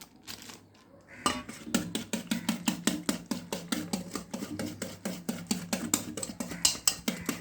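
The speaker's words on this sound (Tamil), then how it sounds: "இதை வந்து கலக்கிக்கிறோம், நல்லா கலக்கிக்கிறோம்." A mixture is stirred in a bowl with a utensil, brisk rhythmic scraping and clinking strokes repeating quickly and steadily after a brief quiet start, close by.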